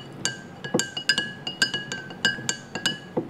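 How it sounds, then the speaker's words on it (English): A metal spoon stirs coffee in a glass, clinking against the sides in a quick, irregular series of bright taps, close and clear with no talking. "Let's stir it nicely."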